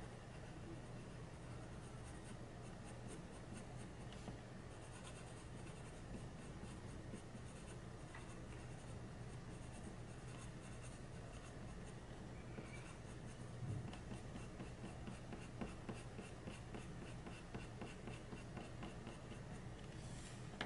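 Prismacolor colored pencil working across paper in close-up, a soft, continuous scratchy scraping of the pigment core on the sheet, steady and quiet with small variations in pressure.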